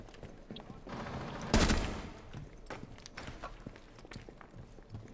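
In Rainbow Six Siege a single loud gunshot cracks out at a lamp, followed by scattered footsteps and small clatters in the background.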